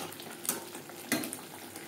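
Spice paste frying in oil for a Bengali hilsa curry, a steady close sizzle with a couple of louder spattering bursts as the masala is stirred, no voices.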